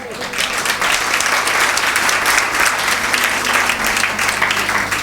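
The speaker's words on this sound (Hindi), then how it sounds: "ताली में दम नहीं आप लोगों के।" An audience at a religious discourse applauds with dense, sustained clapping that holds at a steady loud level for several seconds.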